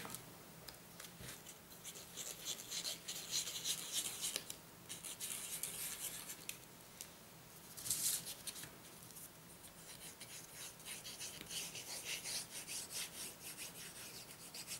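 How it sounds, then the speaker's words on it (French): Soft rubbing and scraping of glue being spread across a paper page of a handmade pop-up album, steady and close with a few brief louder strokes and no voices. "je vais mettre de la colle"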